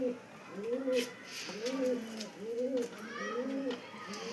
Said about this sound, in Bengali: খোলা দমের পায়রা, গিরিবাজ পায়রা, বাজি খুব এই পায়রা